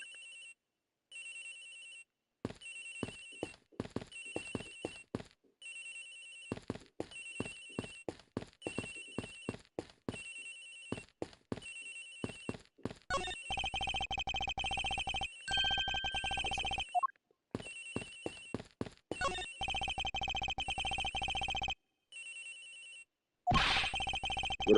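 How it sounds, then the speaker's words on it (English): In Ace Attorney, a phone rings from somewhere in a room: repeated electronic ringtone bursts with short gaps, then a more continuous stretch of ringing, clear and alone. "Agent Nix's phone is ringing from somewhere, sir."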